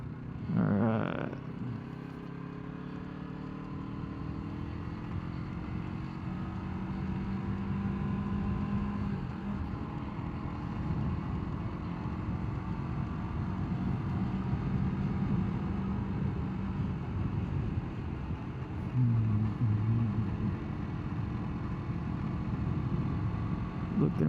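Yamaha MT-03 motorcycle on a beginner's commute to work, engine droning steadily with rising and falling pitch as it gathers speed, wind rush underneath, ridden continuously at close range.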